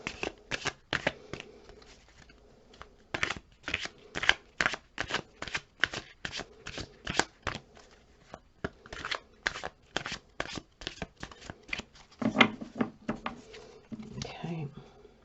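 A deck of tarot cards is shuffled in quick riffling bursts, crisp close-up snaps and flutters repeating almost continuously, with a little rustling handling toward the end.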